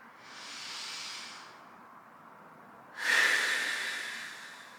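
Deep breathing during a back and hip stretch, one long airy exhale fading out, a pause, then a louder, sharper breath close to the ear.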